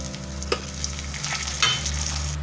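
Food stirred in a hot frying pan with onion, curry leaves and red chilli, a steady close sizzle broken by a few scraping stirs of the spoon, no voices.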